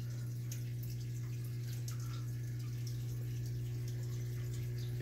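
An automatic aquarium control system pumps water from a backup tank into a reservoir, giving a steady low hum with faint trickling and dripping above it, constant and close throughout, with no talk.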